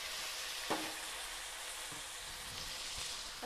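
Garlic sizzles in hot oil in a pan while a sprouted mung bean and greens curry is cooked, a steady close frying hiss broken by a few soft knocks from a stirring utensil.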